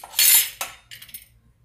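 A ladle scooping starch into a pot while making a caramel chocolate dessert: a few short metallic clinks and scrapes, close and distinct, with brief pauses between them.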